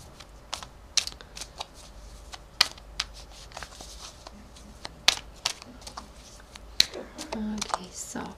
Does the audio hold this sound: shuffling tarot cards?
yes